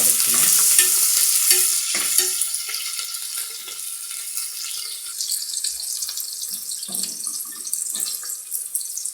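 Onions and green chilies sautéing with cinnamon and cloves start as a loud, bright hiss. After a couple of seconds it drops to a softer sizzle, with scattered clinks and scrapes from stirring.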